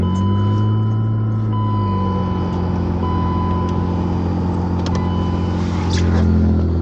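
A BMW E36 fitted with a Remus exhaust idles steadily and close by in winter, its low, even engine drone running unbroken throughout with a faint high electrical whine above it.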